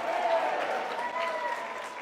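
A church congregation applauds during a sermon, a steady, diffuse wash of clapping that holds evenly throughout at moderate distance, with no speech over it.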